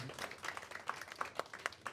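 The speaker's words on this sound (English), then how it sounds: "One more round of applause for Kelly." A small audience at a youth-organizing event claps for a speaker named Kelly, scattered distinct hand claps, fairly faint and brief.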